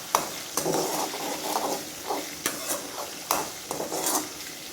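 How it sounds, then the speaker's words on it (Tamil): Crushed garlic is stirred in a sizzling pan for tomato chutney, with a continuous close frying hiss and repeated sharp scrapes and knocks of the spoon against the pan. "பூண்டு போட்டு நல்லா ஒரு கிளறிடலாம்"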